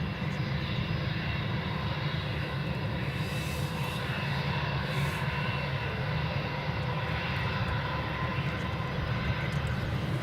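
A KLM Boeing 737-800 jet at Edinburgh Airport, a loud continuous engine roar holding steady throughout with no voices.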